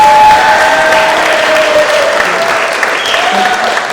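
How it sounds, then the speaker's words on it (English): Applause for Dr. Martinez, who organized the Stumberg Venture Competition pitch event, fills the room as a steady, dense wash of many hands clapping, loud and continuous throughout with faint tonal feedback lines above. "A round of applause for Dr. Martinez for all his work organizing this."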